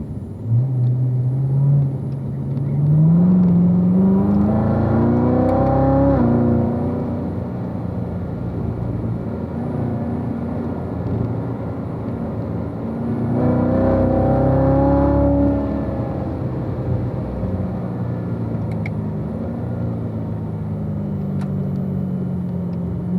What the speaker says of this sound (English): So Jeff, you should be in third gear right now as we make our way through turn 8, unwinding out, setting up for turn 9.